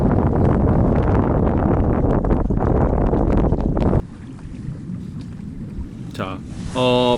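Strong wind blows across a lake during freshwater fishing, a loud steady roar with heavy gusting mic buffeting. It drops to a quieter rush midway, and brief speech-like sounds come near the end.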